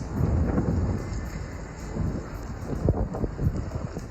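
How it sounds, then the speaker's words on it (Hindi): A thunderstorm with lightning and rain over Attock, Pakistan: continuous rain with low, rolling thunder rumbles and a few sharper crackling bursts, loud and steady with no voices. "अटक में गरज चमक के साथ बारिश हुई।"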